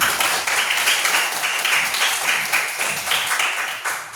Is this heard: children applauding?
yes